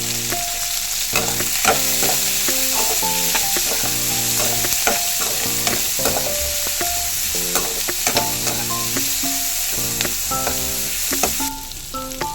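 Onions sauté in a pan, a loud continuous sizzle broken by frequent stirring scrapes, with tonal ringing sounds layered underneath.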